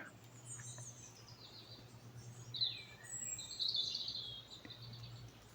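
Birds sing and chirp outdoors in the morning, small bursts of high twittering calls at moderate distance over a steady low hum, with no voices.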